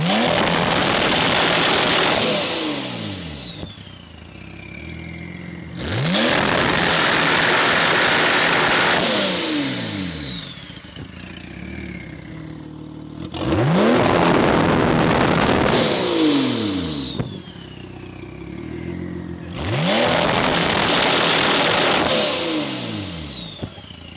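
A Manthey Racing Porsche GT2 RS tuned to about 1000 bhp revs hard four times in a row. Each loud rise climbs to a high scream, then drops back to a rumbling idle between blips.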